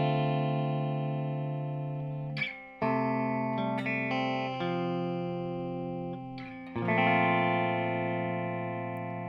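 An electric guitar plays the break section of a song: ringing sustained chords and a few picked notes, sparse changes with long decays, played solo and up close.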